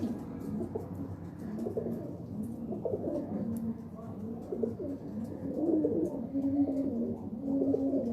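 Pigeons cooing on a rooftop, soft low burbling coos repeating steadily alongside other birds, with faint voices in the background.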